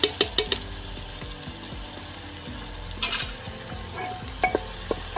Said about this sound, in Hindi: प्याज फ्राई हो गया है।